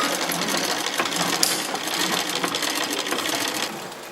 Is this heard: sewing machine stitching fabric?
yes